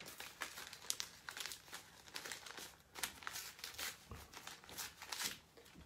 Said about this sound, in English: And tear a bit there like that.